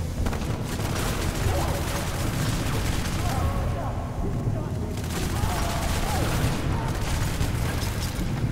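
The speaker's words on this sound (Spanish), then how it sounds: "A que se aguantan bien los tiros" Sustained, dense gunfire from the violent shooter video game Hatred, with heavy overlapping shots and booming blasts forming a continuous loud barrage, while someone speaks briefly over it.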